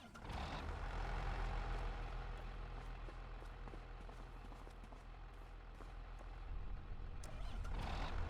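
Farm tractor towing a disc harrow out to the field, a steady low engine drone with rattling and clanking from the hitched implement, continuous and fairly close throughout.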